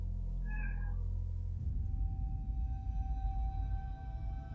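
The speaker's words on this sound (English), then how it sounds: "Even the cat appears to be scared as it quickly jumps off the bed after sensing something wrong." Cat giving a single short meow early on, fairly clear over a low rumbling background hum that continues with a faint steady tone afterward.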